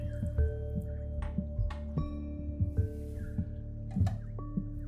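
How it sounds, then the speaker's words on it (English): Water pours and splashes into a blender in short trickles and drips, close up, over a steady humming tonal background. "Pour the water in your mixer."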